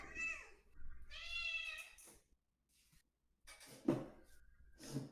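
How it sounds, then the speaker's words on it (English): An angry cat meows persistently, with several drawn-out, wailing cries separated by short pauses, moderately close and faint. "Is that a bunch of different cats, or one cat that keeps getting up in that same spot?"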